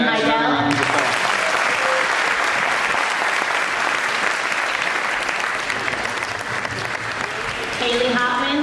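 Loud, sustained audience applause at a high school's winter and spring sports awards ceremony, a dense crowd clapping for honorees, with brief speech at the start and end.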